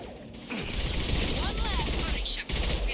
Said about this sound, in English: I'm going to switch to my assault rifle.